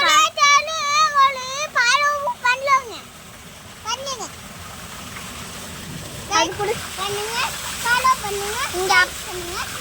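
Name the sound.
man bathing and splashing in water, waterfall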